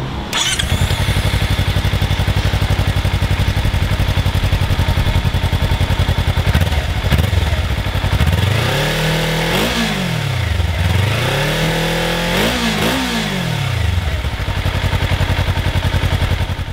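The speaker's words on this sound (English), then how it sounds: "I'll splice that in there now to give you a feel for what the Versys-X 300 sounds like" Kawasaki Versys-X 300 motorcycle, a 300cc engine, running steadily and then revving up and down several times, loud and close, with rising and falling engine pitch and no talk.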